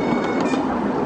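A small passenger train on an outdoor ride at a tractor festival, its carriages giving a steady loud rumble with faint rhythmic clickety-clack of wheels on the rails, no voices.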